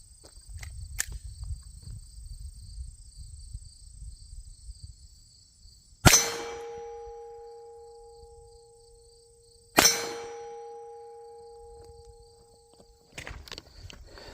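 .22 pistol bullets striking a steel gong target, giving two sharp metallic clangs several seconds apart that each ring out and fade slowly, with a third quieter impact at the end and insects faint in the background.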